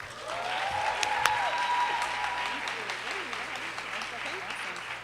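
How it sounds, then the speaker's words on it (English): Audience applause welcoming a speaker at a women and wealth financial education evening in Brooklyn, a steady wash of clapping across the room with some voices and a sustained tone mixed in. "let's give Candy a big round of applause"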